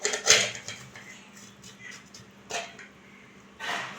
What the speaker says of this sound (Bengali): এবার কুকারের ঢাকনাটা খোলা হচ্ছে।